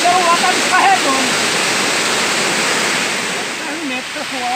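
Loud, continuous roar of a large waterfall at Cambuco in Jussaral, a dense wash of falling water with people's voices faintly audible underneath at moments.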